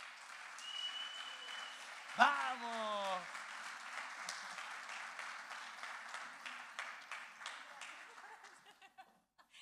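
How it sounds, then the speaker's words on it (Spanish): Audience applause at a talk, building into sustained clapping after a shouted cheer, with a bright chime-like tone sounding briefly, then tapering off toward the end. "le damos la bienvenida y un gran aplauso a Bianca Dyer Jervis"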